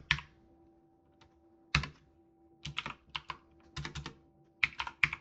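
Typing on a computer keyboard while writing C# code: sparse clusters of crisp, close key clicks and taps separated by short pauses in an otherwise quiet room.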